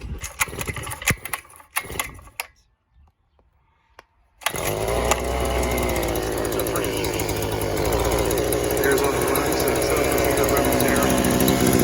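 Rattling and clunking handling noises, a brief quiet, then a Predator auger's small two-stroke engine bursts to life and runs with a loud, steady buzzing drone nearby.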